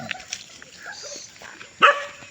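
A dog on a farm barks once, a single sharp nearby bark breaking through quiet outdoor ambience with faint background sounds.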